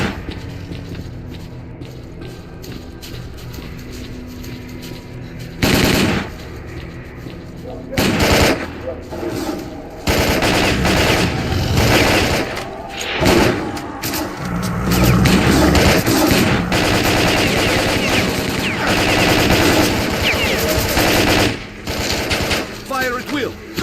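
Gunfire in the game STALKER: Call of Pripyat, with sparse shots at first, then dense bursts of rapid machine-gun fire and booms from about six seconds onward, loud and near, with voices mixed in.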